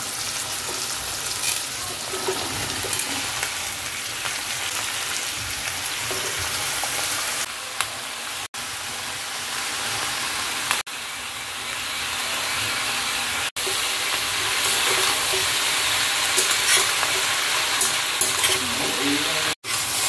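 Prawns and onion stalks fry in a pan, producing a continuous loud sizzle and hiss with stirring scrapes and several short breaks.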